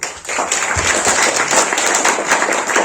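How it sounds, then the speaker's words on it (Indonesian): An audience at an Islamic religious talk gives a short burst of steady, moderately loud applause, the dense clapping continuing throughout without any talk over it. "Tepuk tangan boleh dong?"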